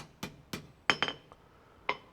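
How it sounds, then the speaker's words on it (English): A hammer strikes a metal candle holder with a heart-shaped handle: six sharp ringing blows, the first two spaced apart, then a quick cluster and a final hit, close and clear in a quiet room. "Hammer that."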